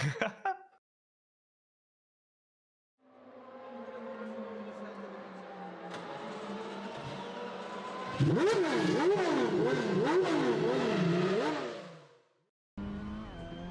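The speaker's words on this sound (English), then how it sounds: "let's very quickly take a look at an onboard lap courtesy of Lewis Edwards around Jack Oliphant's favourite circuit" Touring car in a sim racing game on an onboard qualifying lap at Croft, engine droning and rising through gears, then revving hard with rapid shift sweeps after a brief silence, loud and close with short cuts between.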